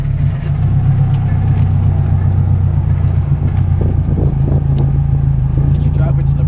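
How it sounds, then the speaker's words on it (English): Honda Civic EG coupe engine running close by with a steady low rumble and idle throughout, plus faint clicks and handling noises inside the car. "turn the key on the start"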